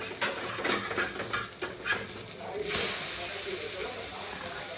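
Egg bhurji fries in a pan over a gas flame, starting with a few light clatters and then a steady broad hiss that swells near the midpoint. Muffled voices sit faintly in the background.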